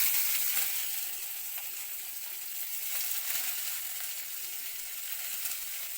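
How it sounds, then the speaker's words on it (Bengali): Chopped onions sizzle steadily in hot oil in a pan for an egg dish, a dense, even frying hiss that holds at a fairly constant level throughout with no voices. "প্রথমে আমি পেঁয়াজ কুচিগুলি দিয়ে দিলাম"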